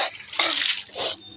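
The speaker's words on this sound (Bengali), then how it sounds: "তো আর একটুখানি জল দিয়ে দেবো বন্ধুরা" Water is poured onto a plant on a rooftop, heard as a few short splashing gushes close by, each lasting a fraction of a second.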